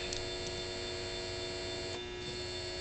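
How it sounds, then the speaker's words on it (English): A small battery-powered electric motor running steadily, giving a constant close whirring hum with no change in pitch. "In this case, I am touching the leads to this operating motor."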